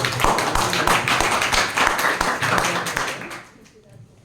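An audience at a Bhagavad Gita recitation gathering claps in a brisk, uneven patter of hands, loud and close, fading out near the end, with a voice speaking over it.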